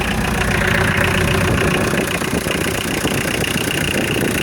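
Mitsubishi Delica 4D56 turbo diesel engine idling steadily after a head stud install, outdoors in freezing, snowy weather; a close, loud, continuous rumble with an even mechanical clatter and no voices.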